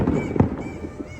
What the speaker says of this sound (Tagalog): Tapos ito yung fireworks ko dito sa background.